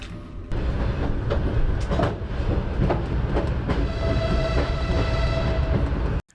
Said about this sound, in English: Up to the border we travel in the class RGD train compartment